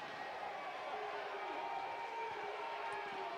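A home crowd at a college men's basketball game gives off a steady, moderately loud roar of cheering and chatter from a packed gym, a sustained wash of voices with no single standout whoop.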